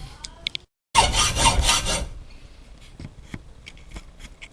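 Rough rasping cuts diagonally through material to trim excess from a homemade manual pipe bender part, one dense burst of scraping after a pause, followed by lighter scattered scrapes and taps.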